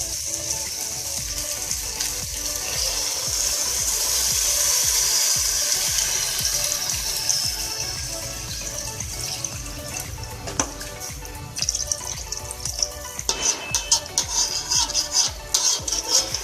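Water pours steadily into a pot of khichdi with a rushing, splashing sound, later turning to bubbling and clinking, close by with no talking.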